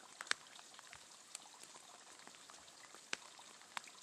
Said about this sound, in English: I hope you can hear that little stream babbling down in that little pool right there.